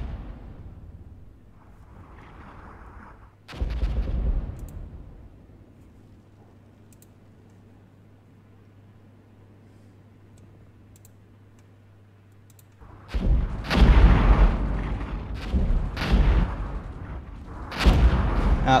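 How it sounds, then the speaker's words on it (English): Artillery and light mortar fire in the tactical war game Armored Brigade: a single heavy boom early, a long quiet stretch, then a cluster of loud overlapping impacts and crackling blasts near the end. "Looks like he's attacking me with artillery."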